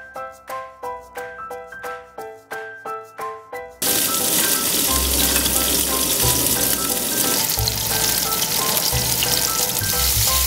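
Chayote frying in a pan, a loud steady sizzle that starts abruptly and then runs continuously, with a few low thumps, preceded by a rhythmic plucked melody.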